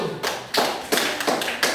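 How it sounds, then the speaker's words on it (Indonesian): Classroom clapping at an elementary school as a class applauds a student group, several sharp, separate claps spaced irregularly across the moment, fairly close and moderate in level, with no one talking. "Tepuk tangan buat kelompok 1."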